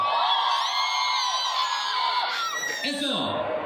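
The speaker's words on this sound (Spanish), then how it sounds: "¿Dónde está el grito para los Cumbia?" A dense, loud crowd at the 2023 San Mateo fair inauguration in Atlatlahucan shouts, whoops and cheers continuously before a stage, the roar holding steady throughout.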